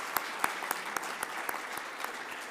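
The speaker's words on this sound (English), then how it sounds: "round of applause." Steady applause from a conference audience at a plenary session, dense clapping held at an even level throughout with a few sharper individual claps standing out.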